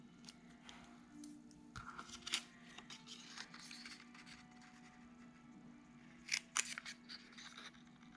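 Scissors snipping dovetail cuts into scrapbook paper, a few crisp close cuts spread over a steady low background hum, sparse and fairly quiet, with no voices.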